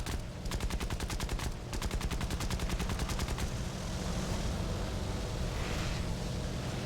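Aircraft machine guns in a War Thunder air battle fire rapid, rattling bursts over a constant engine drone, with brief pauses between volleys.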